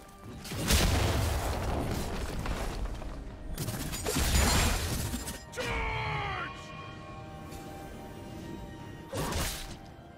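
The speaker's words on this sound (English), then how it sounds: "Red team's turret has been destroyed." A turret is destroyed in League of Legends during a Renekton versus Garen top-lane match, heard as several heavy booms and crashing impacts spread across the moment, with a brief whooshing sweep between them.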